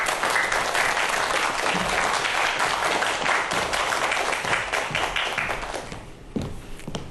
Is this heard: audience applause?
yes